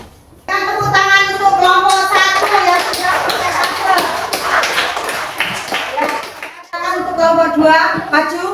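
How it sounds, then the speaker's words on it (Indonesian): A classroom of children clapping after a group presentation during a science lesson on forces, with a burst of applause mixed with tapping and young voices chattering over it, fading briefly before another round. "Tepuk tangan"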